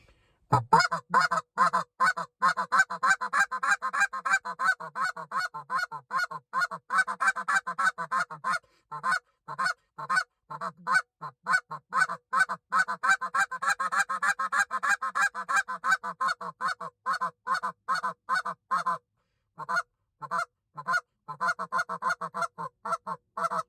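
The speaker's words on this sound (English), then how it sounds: "bouncing the cadence up and down, sounding like geese getting excited" A long, rapid sequence of honking Canada goose calls blown on a hunting call, close and loud, rising into excited bursts and easing back down with brief pauses between runs.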